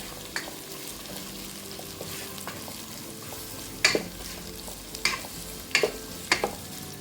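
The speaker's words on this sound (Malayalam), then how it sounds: "നമ്മൾ അരിഞ്ഞു വെച്ചിരിക്കുന്ന ഉള്ളിയുടെ അങ്ങോട്ട് ഇട്ട് കൊടുക്കുകയാണ്" Chopped onions hitting hot oil in a pan for a koosa potato curry, a continuous sizzle punctuated by several sharp stirring scrapes and clinks toward the end, close by with no speech.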